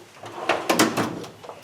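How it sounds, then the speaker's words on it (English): A wooden drawer holding shaper cutters in a cabinet is jarred hard, giving a quick series of knocks and clunks over under two seconds with no rattling of loose contents. "even when I aggressively jar that drawer, it doesn't seem to want to move around"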